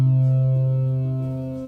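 A basic synth tone built by sustaining a plucked ukulele note drones as a steady low hum rich in harmonics, holding evenly for under two seconds before cutting off, loud and with no voices.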